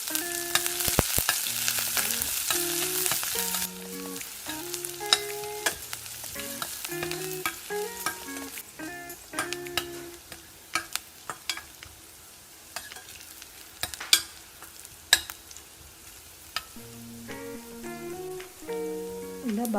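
Onions, garlic, ginger and green chillies frying in oil over a high flame for a restaurant-style dish; a steady sizzle, loudest in the opening seconds, continues under background music with no talk.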